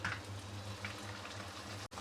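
Puris sizzling in hot oil in a large kadhai, a steady close bubbling crackle with no voices.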